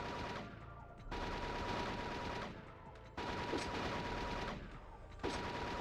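Sustained automatic fire from gun turrets in the Justice League Heroes video game, steady rattling bursts that stop briefly and resume several times, at moderate level with no talk.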